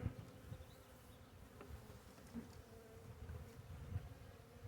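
Honey bees hum in a dense, steady buzz around a hive with a newly installed swarm, close up, with occasional louder passes of individual bees.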